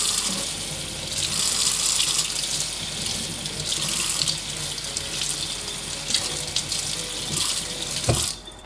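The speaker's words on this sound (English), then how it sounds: "So just want to turn on some water" Tap water runs in a steady gushing stream onto an Allbirds Wool Runner-up Mizzle Fluffs shoe, splashing and spattering close by with no voices, until a brief knock near the end.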